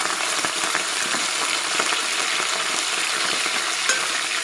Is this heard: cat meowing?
no